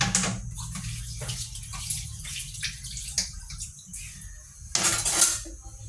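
A pot of water nearly boiling, cooking for chicharon bulaklak: a steady low bubbling rumble with irregular clinks and splashy bursts close by, no talking.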